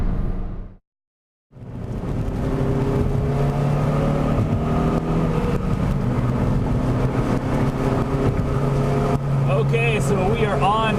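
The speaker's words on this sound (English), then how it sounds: "we are on track for the first time with the Civic" A Honda Civic Si drives on a race track in cold weather, its engine droning loud and continuous after a brief dropout, with the pitch rising and falling as it accelerates.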